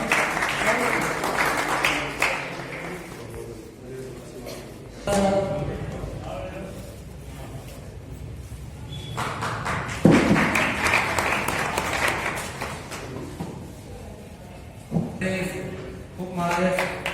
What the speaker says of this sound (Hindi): साथियों स्वागत किया जाए तालियों के साथ।